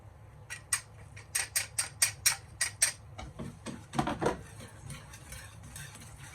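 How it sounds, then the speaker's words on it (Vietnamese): Cornstarch stirred into sponge-cake batter in a bowl, a close series of crisp metallic taps and clinks against the bowl side, evenly spaced at first, then a softer scraping cluster, with no talking. "Mình khuấy cho cái phần bột bắp này nó tan trước"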